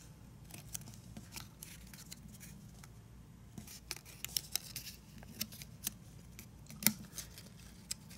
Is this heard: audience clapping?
no